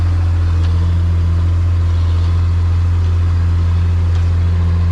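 A Massey Ferguson 3690 tractor pulling a McHale Fusion 2 baler runs in a loud, steady low engine drone with a constant hum, close and unbroken, with no talk.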